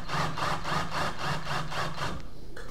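Rhythmic grinding drill strokes repeat about eight times in quick succession, close and steady, while a hole is bored in wood for a homemade hot wire styrofoam cutter, then stop.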